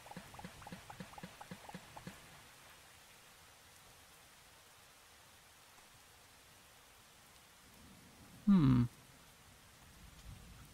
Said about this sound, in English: And it's apparently raining underneath the ground.